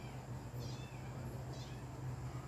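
A cat meows twice, faint and short, over a steady background hum.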